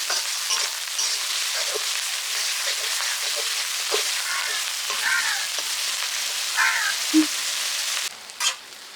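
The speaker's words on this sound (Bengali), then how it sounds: "আদা রসুন পেঁয়াজ দিব, খুব ভালো করে কষিয়ে নেব।" Ginger, garlic and onion paste sizzles and fries steadily in a hot pan with occasional stirring scrapes, a continuous close hiss running the whole time, while cooking a spoiled-hilsa fish curry.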